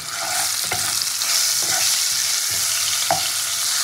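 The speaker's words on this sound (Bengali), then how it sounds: "টমেটোটা ভাজতে ভাজতে এর মধ্যে একটু নুন দিয়ে দেবো আমি, তাহলে তেলটা ছিটকাবে না।" Tomato fries in hot oil with salt added, a loud steady sizzle close by with a few soft stirring scrapes of a spatula and no voices.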